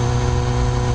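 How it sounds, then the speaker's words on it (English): BMW S1000R motorcycle engine running steadily through its exhaust, a loud, continuous low rumble with a near, idling character and no talk. "The exhaust noise when you start this thing up, it causes a ruckus."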